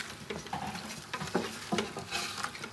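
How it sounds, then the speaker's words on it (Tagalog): Braised pork simmering in cola sauce being stirred in a pot, with faint scraping strokes and soft bubbling patter, quiet and close. "Haluin nyo lang po ulit ng konti."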